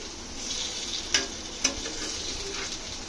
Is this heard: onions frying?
yes